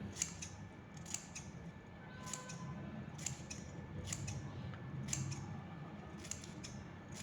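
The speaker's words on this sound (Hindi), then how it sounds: "ये जो मेरा आखिरी का है बस इसे हमें कैंची की सहायता से काट कर हटा लेना है" Scissors snipping mango leaves for a Diwali door hanging: about a dozen crisp, close cuts, some in quick pairs, at an uneven pace over a soft steady background, with no speech.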